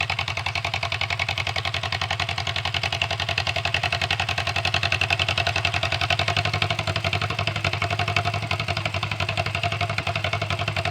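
John Deere M tractor with an upright engine runs steadily close by, a loud, even, rapid thumping idle with no pauses for the whole stretch.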